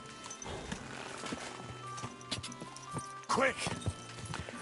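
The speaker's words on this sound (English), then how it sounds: "I'll get the horse just so we can get there a bit quicker." Horse hooves clip-clop in Kingdom Come: Deliverance 2, a steady run of close, rhythmic thuds joined by a short whinny, with a voice speaking over the footfalls.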